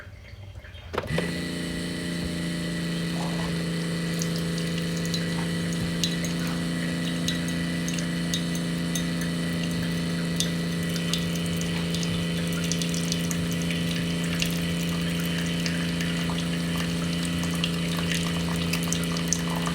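A Keurig K-Select coffeemaker hums steadily as its pump pushes water through a descaling rinse, a constant drone that begins abruptly after a brief quiet moment and carries on unchanged.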